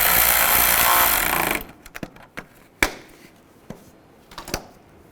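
A bolt is snugged up on the washer fluid filler neck during coolant reservoir replacement on a 2005-10 Volkswagen Jetta: a loud burst of tool noise, then several sharp metallic clicks and knocks close by.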